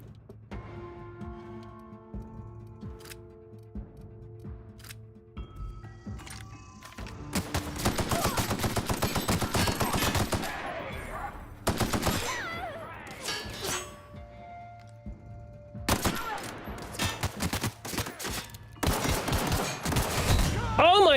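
Rapid video game gunfire during frantic run-and-gun play, loud dense bursts of shots from about seven seconds on, with pauses and a second heavy volley near the end over quieter game ambience.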